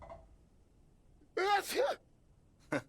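A character in the video game Alan Wake Remastered lets out a single short, sharp sneeze in a quiet scene, followed by a brief breathy sound.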